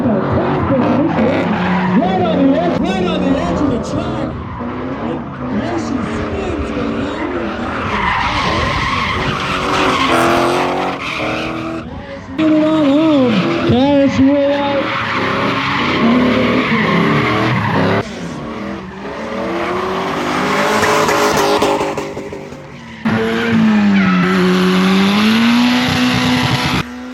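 Drift cars skid around a racetrack at a drift series round, tires squealing in long wavering howls over revving engines, loud and continuous with brief shifts as cars pass, while a commentator talks over the action.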